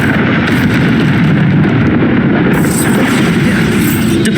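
A Bombarda spell blast in Hogwarts Legacy, a loud, sustained, rumbling explosion with crackling debris filling the whole moment, no voices over it.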